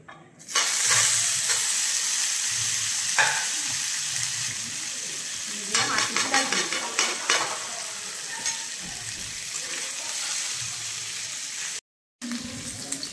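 Pieces of paneer fry in hot ghee, a loud, steady close sizzle with scraping stirring and bursts of spitting, cutting out briefly near the end.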